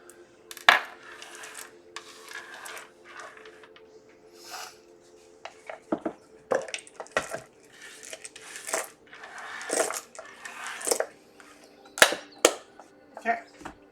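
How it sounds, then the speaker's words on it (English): Small dice clatter and tumble repeatedly across a hard surface in a divination session. Sharp clicks and rattles come in scattered bursts, interleaved with quieter gaps over about fourteen seconds. "Do I need to roll the dice again?"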